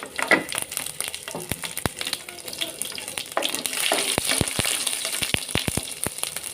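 Whole panch phoron and whole garlic crackle and sizzle in oil as they are stirred, a steady frying hiss with sharp pops and utensil scrapes scattered through it, close and moderately loud, no talking.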